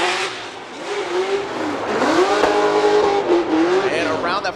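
A Nissan Silvia S15 drift car at Formula Drift Long Beach holds a loud, sustained engine wail that rises and falls with the revs, mixed with tire noise and crowd ambience, while a commentator talks over it.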